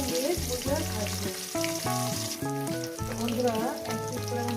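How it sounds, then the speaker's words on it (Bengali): Two pieces of lailontika fish fry together in hot oil with a strong, steady crackling sizzle close by, running the whole time beneath background music. "আমি দু পিস করে নিয়ে বন্ধুরা ভাজবো"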